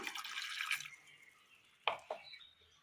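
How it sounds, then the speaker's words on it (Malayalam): Water is poured into a cooking pot set on a stove, a soft splashing pour that fades, followed by two faint, separate drips in a quiet kitchen. "അടുപ്പത്തൊരു ചട്ടി വെച്ച് കൊടുത്ത് അല്പം വെള്ളം ഒഴിച്ചു കൊടുക്കാം"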